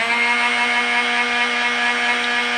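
A Drill Doctor 750X sharpener grinds a drill bit with a loud, steady electric motor whine and a constant abrasive hiss, close and unbroken throughout.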